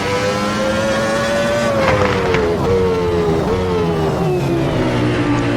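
Williams FW14B Formula 1 car's engine in the Assetto Corsa racing game at Adelaide, a loud, steady high-pitched whine with pitch that rises and dips through gear changes, continuous and close, with no talking.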